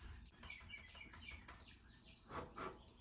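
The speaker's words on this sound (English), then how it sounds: "Do you guys hear the birds chirping?" Small birds chirp outdoors in spring, bright repeated tweets scattered across the clip and a couple of louder calls near the end, faint and distant against a quiet background.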